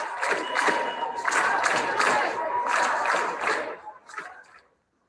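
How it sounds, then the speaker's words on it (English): A crowd at an anti-racism march in San Diego chants together in loud rhythmic bursts of many voices, repeating several times before a last short shout and sudden silence. "Many shared their personal experiences dealing with racism and chanted together against all hate."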